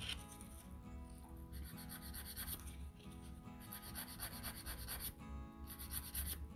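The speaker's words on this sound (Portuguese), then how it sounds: "você deve lixar reta, acompanhando a curvatura da unha" A nail file rasps across a fiberglass nail extension in short, repeated back-and-forth strokes along the curve, faint, close and scratchy.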